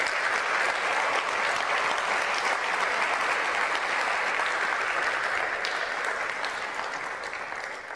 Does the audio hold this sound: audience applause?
yes